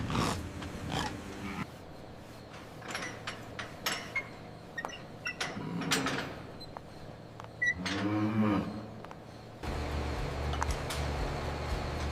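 A herd of Brahman cattle approaching a gate lows and snorts, with several moos at moderate distance. Shuffling and movement noises sit between the calls, and a steady low rumble sets in near the end.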